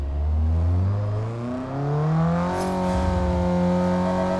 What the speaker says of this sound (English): Following is the sound of the engine note.